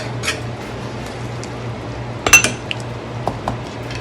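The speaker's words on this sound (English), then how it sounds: "Stir it in." A spoon stirs Trini-style fish pelau in a cooking pot, giving scattered metallic scrapes and clinks, with one brief cluster of sharper knocks, over a low steady stove hum.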